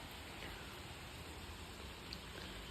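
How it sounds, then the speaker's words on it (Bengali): Steady rain falls outdoors as a soft, even, faint hiss of drops that stays constant, heard from indoors with no voices. "এই যে বাইরে কিন্তু বৃষ্টি একভাবে হয়ে যাচ্ছে সকাল থেকে।"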